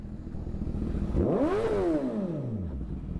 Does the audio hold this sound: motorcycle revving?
yes